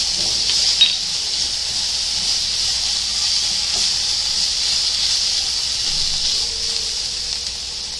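Garlic and carrots sizzle as they roast in a hot pan, giving a steady, close hiss that holds evenly throughout with no break.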